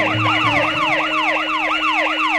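An ambulance siren wails loud and close, its rapid rising-and-falling yelp repeating steadily without a break.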